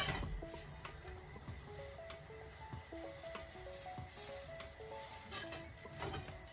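Butter sizzles steadily in a very hot pan, a constant soft crackling hiss throughout with faint scattered pops, fairly quiet and with no talk.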